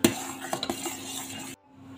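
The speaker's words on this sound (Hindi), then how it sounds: "इसको हिलाते रहेंगे, नहीं तो लम्स पड़ जाएंगे और नीचे भी लग सकता है" A utensil stirs fruit custard in a pan, giving a few light clinks and scrapes over a faint simmer before the sound cuts out.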